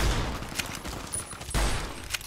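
Enemy gunfire in Fallout New Vegas: a few sharp shots scattered over a couple of seconds, with dense noisy bursts near the start and middle, loud and fairly close with game ambience underneath.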